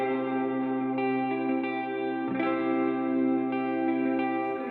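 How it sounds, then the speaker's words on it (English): A clean electric guitar drenched in reverb rings out in sustained, shimmering chords, the notes blending into a lush wash with a fresh strum near the middle, steady and fairly loud with no voices. "we got this clean background guitar just soaked in reverb"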